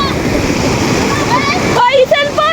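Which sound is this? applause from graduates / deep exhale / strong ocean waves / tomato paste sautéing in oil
strong ocean waves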